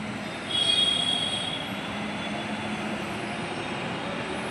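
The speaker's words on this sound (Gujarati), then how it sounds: "મેટ્રો ટ્રેન કેવી રીતના જાય છે તે તમને દેખાડીશ બ્લોગમાં" A metro train pulls away from a station and runs along the track, a steady broadband rumble of wheels on rail with a high, sustained wheel squeal rising in at the start, fairly close and continuous with no talk.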